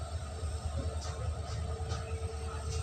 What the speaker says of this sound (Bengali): এই যে ট্রেন ছেড়ে দিয়েছে।